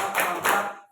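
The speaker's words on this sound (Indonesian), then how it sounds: "tepuk salut untuk Bu Lina" A group applauds in salute for a presenter during an Indonesian curriculum workshop, two quick swells of dense hand clapping that fade out within a second.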